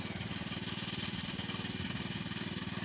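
A Forte 80 walk-behind tractor mows alfalfa in first gear, its engine chugging in a steady, rapid, even rhythm close by for the whole stretch, with no voices.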